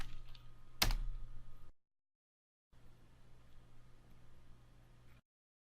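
A command typed on a computer keyboard in a quiet room: a brief burst of soft close key clicks after one sharp knock, a silent gap, then more faint tapping.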